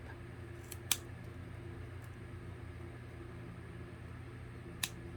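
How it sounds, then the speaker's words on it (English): Scissors snip holes in a beanie hat, giving two quick soft snips near the start and another toward the end over a constant low hum of room noise. "I'm going to just use my scissors and just kind of like try to do a little snip"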